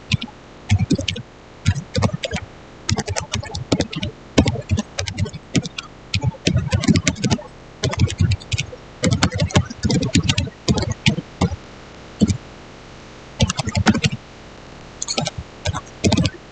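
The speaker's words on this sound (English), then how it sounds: "let me type in my command to ChatGPT" Fingers tap out a command on a computer keyboard in rapid, irregular runs of close clicks, with short pauses between bursts and a little faint talk.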